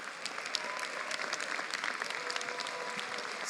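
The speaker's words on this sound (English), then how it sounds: "let's give another round of applause for our student body president" A convocation audience claps for the student body president in a college hall, a dense, even patter of many hands at moderate distance, sustained throughout without voices.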